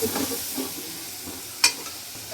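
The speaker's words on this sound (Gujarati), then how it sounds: "મીઠી લીમડી અને પછી જશે કાંદા ટમેટાની ગ્રેવી. છંછણાટી બોલશે." Onion-tomato gravy added to a hot tempering with curry leaves gives a short, close crackling sizzle mixed with stirring scrapes, and a sharp burst of hiss comes midway.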